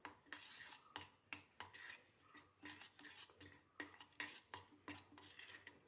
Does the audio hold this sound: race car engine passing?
no